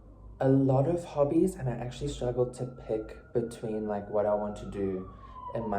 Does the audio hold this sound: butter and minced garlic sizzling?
no